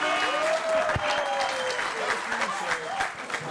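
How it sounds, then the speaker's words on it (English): An outdoor groundbreaking ceremony crowd applauds steadily with some cheering, continuous clapping throughout, while someone speaks over it. "Thank you for cheering for that."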